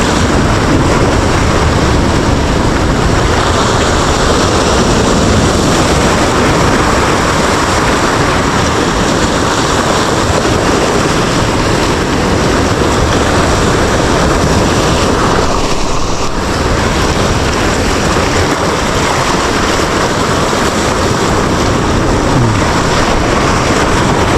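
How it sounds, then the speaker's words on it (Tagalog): A constant, loud roar of strong surf and wind buffeting the microphone at a Palawan fishing spot, the heavy ocean noise unbroken for the whole stretch. "Grabing alon dito"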